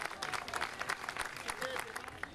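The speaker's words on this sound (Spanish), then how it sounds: "Un aplauso para ella." An audience at a senior citizens' day celebration applauds with quick, distinct claps, steady but fairly faint and distant, while someone speaks over it.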